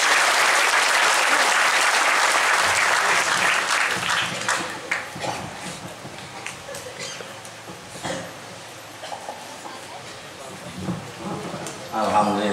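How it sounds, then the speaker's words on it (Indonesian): An audience at a cultural Islamic study gathering applauds a speaker, a dense burst of clapping that starts loud and gradually thins out over about twelve seconds, with scattered claps lingering near the end. "kita beri tepuk tangan untuk beliau ya"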